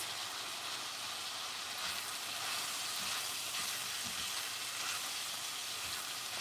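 Onions frying in a pan make a constant, fairly loud sizzling crackle with occasional soft stirring scrapes, heard alone without talk.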